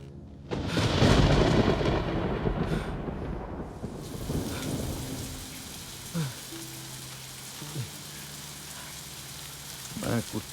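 Heavy rain and rolling thunder in a Hindi-dubbed action film scene: a loud rumbling burst up front that eases into a steady downpour, with brief thuds and faint voices later.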